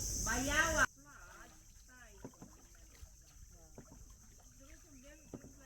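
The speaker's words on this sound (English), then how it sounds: "All you can hear is the sound of the crickets." Steady high-pitched insect chirring, like crickets, in mangroves in Palawan, Philippines, heard from a boat, runs through the clip alongside birdsong and faint clicks; a brief loud human voice opens it.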